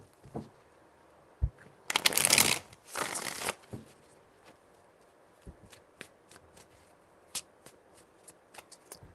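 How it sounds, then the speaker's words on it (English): Tarot cards being shuffled up close, two dense riffling bursts followed by scattered light taps and flicks as the deck is handled, with no speech. "Three shuffles."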